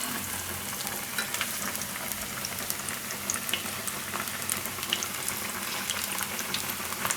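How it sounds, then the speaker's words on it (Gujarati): Onion bread pakoda fry in hot oil with a steady, dense crackling sizzle and scattered sharp pops, close and continuous with no talking. "અને આપણે એકદમ ધીમેથી તેલમાં મૂકી દેવું અને તરાવા દેવું તેલમાં."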